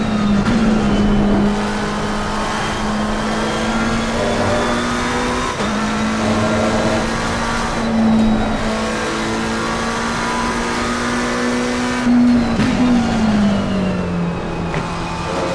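A race car engine in the Assetto Corsa Competizione racing game, played with a Logitech G29 wheel and pedals, holds a loud, steady high-revving drone with brief shifts in pitch, then drops its revs on a downshift near the end.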